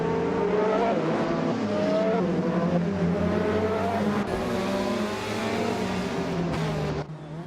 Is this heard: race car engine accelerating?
yes